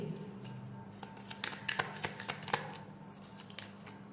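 Tarot cards are handled and shuffled in a steady run of crisp riffling flicks and soft slaps, close and fairly clear over a faint low hum, with no talking.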